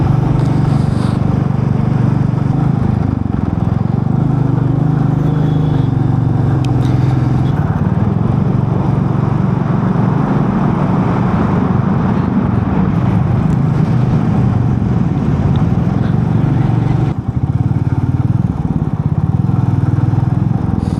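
A motorcycle cruises on a highway on a long ride from Srinagar to Delhi, its engine droning steadily and loudly up close with heavy wind rush, briefly dipping once before carrying on.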